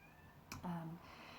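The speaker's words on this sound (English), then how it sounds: "Apologies if you can hear my cat in the background." A short cat meow rises briefly after a faint click, a single plaintive call in a quiet room.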